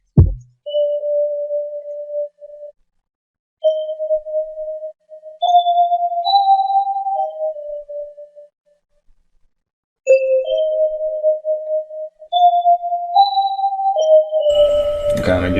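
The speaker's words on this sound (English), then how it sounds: "this is the Dream Keys FG preset, which sounds like this" Dream Keys FG synth preset on Harmor in FL Studio, played as soft sustained keys notes in two short melodic phrases, clean and mellow with faint chime-like overtones, with a pause between phrases and a brief click at the end.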